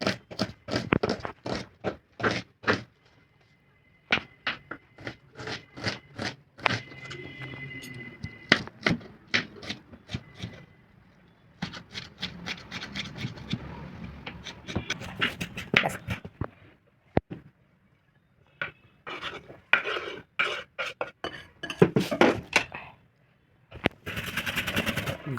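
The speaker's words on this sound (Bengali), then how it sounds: "পেঁয়াজটা কেটে নেব ছোট করে।" A knife chops onion into small pieces on a board in quick bursts of sharp, close taps, with short pauses between runs.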